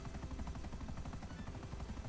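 Helicopter in flight in the GTA Online game, a loud steady rapid rotor chop with a constant engine hum, with no talking.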